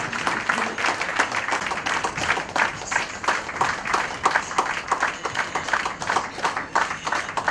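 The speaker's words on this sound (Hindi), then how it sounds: "जबरदस्त तालियों के साथ आस्वाद को हम स्वीकार करें" A school audience claps in a lively, rhythmic way, the individual claps distinct and fairly close, steady over a quiet room tone.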